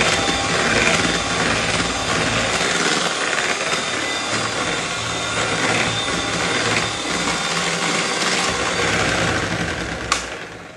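An electric hand mixer beats ganache into chocolate mousse cream for a cake, a steady close whirring drone that runs without a break, with no talking over it.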